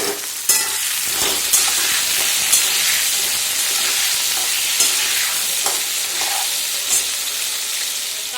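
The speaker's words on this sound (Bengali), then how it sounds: "নুন দিই, নুন দিয়ে এটাকে ভাজতে ভালো করে।" Food fries in a pan after salt is added, giving a loud, continuous sizzle and hiss with a few sharp spatters and stirring scrapes spaced through it, heard up close with no talking.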